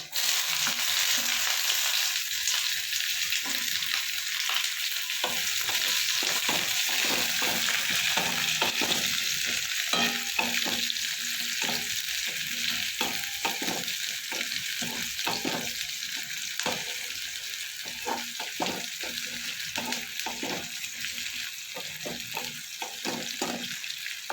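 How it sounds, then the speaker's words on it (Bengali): Chopped onions fry in a pan for a Bengali masoor dal, the hot oil holding a constant close sizzle while a spoon stirs and scrapes in quick, repeated strokes throughout, with no one speaking. "পেঁয়াজটা আমার একটু হালকা ভাজা ভাজা হয়ে এসছে।"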